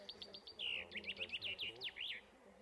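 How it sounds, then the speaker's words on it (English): A chaffinch sings a short, lively phrase, a quick descending series of bright trilled notes ending in a sharp flourish, heard faintly against quiet forest background. "This is a chaffinch."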